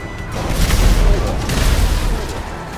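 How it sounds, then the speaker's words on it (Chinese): Explosions and blasts in GTA 5 with mods, a dense, continuous booming rumble with crackling debris, loud and close throughout the short stretch. "这爆炸场面"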